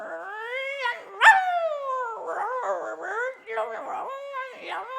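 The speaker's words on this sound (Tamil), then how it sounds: "ஐயோ நாய் ஊரா கூடிருச்சு." Dogs yip, whine and yelp close by, several high-pitched cries overlapping in quick, agitated bursts.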